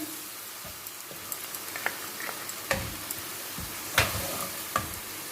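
Chilli chana stir-frying in a pan as soy sauce, vinegar, red chilli and tomato sauce go in, a steady sizzle broken by sharp scraping and stirring clacks, close and fairly loud, with no talking.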